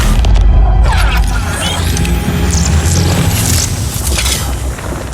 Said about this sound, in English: A red solar grenade.